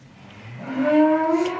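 A single cow moos nearby, a long low call that rises and swells before holding steady, heard alone without talk.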